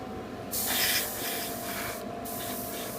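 A spray gun lays a gloss coat onto a mega-size Gundam RX-78-2 model kit: a close, airy hiss bursts on, eases back, then resumes in a second steady spray.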